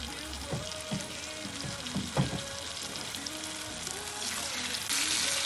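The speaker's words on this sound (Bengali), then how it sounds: "চিকেনটা আমি সবগুলো ভাজা বসিয়ে দিয়েছি" Marinated tandoori chicken pieces sizzle and fry in a pan on a stovetop, a steady close crackle with occasional stirring clinks and a louder burst near the end.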